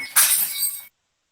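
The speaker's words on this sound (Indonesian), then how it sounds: "ada gelas pecah tuh" Glass shatters in one sharp, loud crash with a bright spray of shards that rings briefly, then cuts off to silence.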